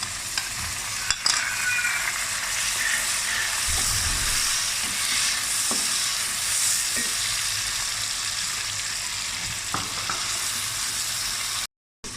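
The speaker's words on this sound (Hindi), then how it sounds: "इसको थोड़ी देर फ्राई करूँगी जी।" Two large sliced tomatoes frying in a pot for dhaba-style daal mash, a steady close sizzle with occasional soft stirring knocks, continuous until a brief cut near the end.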